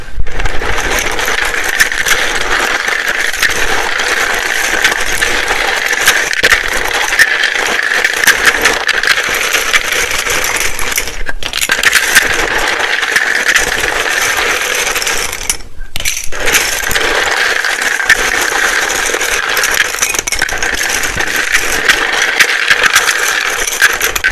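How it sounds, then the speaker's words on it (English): Tarot cards shuffled continuously for a long stretch, a loud, dense papery riffling and rattling that runs nearly unbroken with two brief pauses, no talking. "It can be very loud when I shuffle these."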